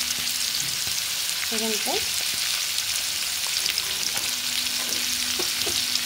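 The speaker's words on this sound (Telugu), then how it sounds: "ఫస్ట్ ఆనియన్స్ వేసినాక అల్లము, వెల్లుల్లి అండి, అదే తెల్లగడ్డ ముక్కలు తరినాం కదా, అవి వేసుకోవాలండి." Onions, ginger and garlic frying in a pan give a loud, continuous sizzle with a few stirring scrapes, while a voice briefly speaks over it.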